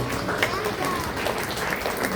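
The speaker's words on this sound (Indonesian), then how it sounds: "Kita berikan tepuk tangan sekali lagi untuk teman-teman yang sudah" Sunday morning church congregation in Sentani clapping after a drama performance, a continuous, moderately loud wash of many hands with a faint murmur underneath.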